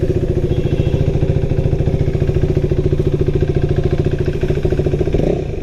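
A KTM Duke 390 motorcycle just back from its third service revs and runs steadily at close range, a loud, even, pulsing engine drone that eases off at the end.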